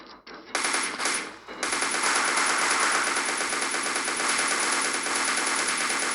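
Rapid, continuous automatic rifle fire in a zombie video game, a dense loud rattle that starts with a few short bursts and then runs unbroken, with no talking over it.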